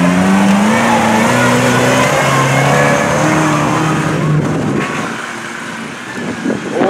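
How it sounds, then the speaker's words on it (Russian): Two UAZ off-road vehicles launch side by side in a straight-line drag race at a club birthday event, their engines roaring loudly and rising in pitch through the gears before receding into the distance. "Стартуют по две машины"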